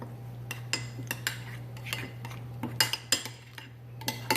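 A utensil stirring a Madras-style sauce in a pan, scraping and clinking against the metal in irregular taps, close and moderately loud over a low steady hum, with no talking.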